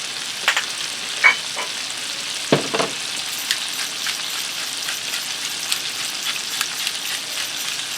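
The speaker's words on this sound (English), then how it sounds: "I'm going to allow my potatoes to cook here over medium heat until they start to get tender" Seasoned potatoes with salt and pepper sizzle steadily in a skillet over medium heat, a continuous close frying hiss with a few brief clicks and pops, no voices.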